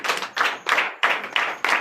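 A congregation claps in acclamation during a Friday night deliverance service in Comè, Benin, producing six loud bursts of rapid hand claps in a steady rhythm, each separated by a brief pause.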